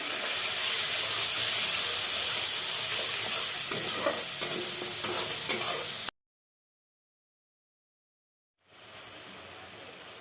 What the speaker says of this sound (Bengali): হলুদ গুঁড়ো দিয়ে দিলাম কাশ্মীর লঙ্কা গুঁড়ো দিয়ে দিলাম এবার একটু নেড়ে নিই